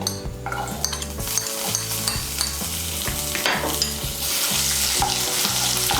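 Grated ginger and chopped garlic fry in hot oil in a wok, a steady close sizzle broken by repeated scraping and clinking strokes of a stirring spoon, with no voices.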